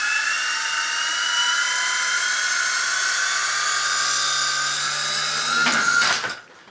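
A small RC coaxial helicopter spins up indoors with a rising high-pitched whine of its electric motors and rotors, steady and close for several seconds before a brief clattering surge as it lifts off, then cuts out.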